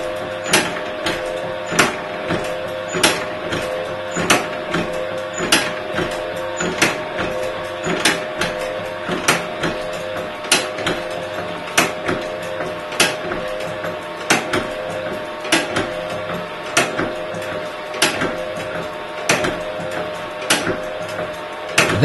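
The winding mechanism of a gravity escapement clock moves its chain through bicycle freewheels to raise the weight, giving a steady mechanical whir broken by sharp rhythmic clicks about once a second, close and loud.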